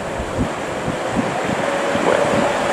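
Wind rushes against the microphone over a steady wash of waves at a river mouth opening to the sea, a continuous, fairly loud outdoor roar with soft rhythmic swells.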